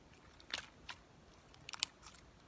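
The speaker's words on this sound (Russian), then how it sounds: "Он чуть хрустит, то есть кликает" Slime gives a few faint crisp crunches and clicks in small bursts, quiet and close, with near silence between them.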